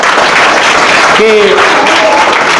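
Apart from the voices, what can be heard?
audience applauding village students' exam success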